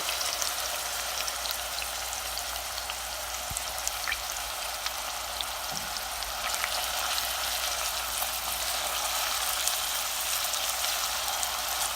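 Garlic and onions sweat in a pan on the stove, giving a steady, even sizzle that holds at a constant moderate level throughout with no voices.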